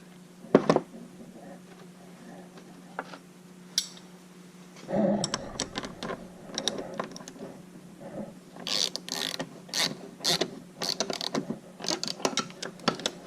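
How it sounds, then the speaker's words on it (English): A bearing splitter works the crank bearing off a Stihl MS290 chainsaw crankshaft, with faint ratcheting clicks, metallic creaks and scattered taps that grow busier toward the end, all close and quiet. "To remove the crank bearing, I'm using a bearing splitter."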